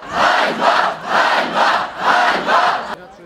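A protest crowd outside a government building in Uzhhorod shouts loudly in unison, a chant rising and falling in five strong rhythmic bursts before cutting off abruptly.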